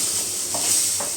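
Tomato and cashew paste fries in a pan with a steady, close hiss and sizzle, and two soft stirring strokes sound during the short burst.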